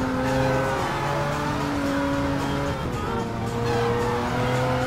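Nissan 370Z engine in a drifting game, droning steadily with shifting harmonic pitch and a continuous tire squeal layered over it, loud and sustained throughout.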